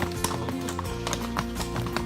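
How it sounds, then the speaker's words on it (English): A horse on a horseback ride walks and sidesteps, its hooves clip-clopping in uneven taps over a steady, tonal background hum. "His horse likes to walk sideways."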